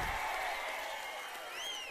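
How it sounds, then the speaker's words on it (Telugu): An audience at a political rally addressed by Chandrababu Naidu claps: faint, distant applause with a few whistle-like tones rising over the crowd. "నమ్మకం ఉందంటే గట్టిగా చప్పట్లు కూడా చెప్పండి ఉందని"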